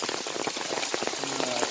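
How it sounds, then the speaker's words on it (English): Heavy monsoon rain pours steadily in a hill-station setting, a dense, loud hiss of drops with scattered close splashes and patters throughout. "Weather here is continuously raining."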